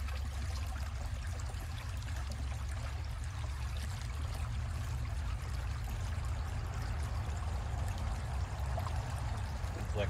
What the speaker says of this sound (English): this is something that you're going to want to rinse out 2 to 3 times with stream water